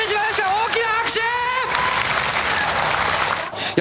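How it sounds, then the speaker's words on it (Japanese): Applause from a crowd at a D1 Grand Prix drifting event fills the whole short stretch, steady and dense, with a voice speaking over the start. "大きな拍手。"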